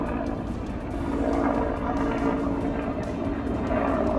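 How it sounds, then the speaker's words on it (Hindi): Indian Air Force helicopter dropping water over burning forest near Walong, Arunachal Pradesh: a steady, even droning roar of rotor and engine that holds through the whole stretch with no pauses. "आसमान से इंडियन एयरफोर्स के हेलीकॉप्टर धधकते जंगलों पर पानी की बौछार करते नजर आए।"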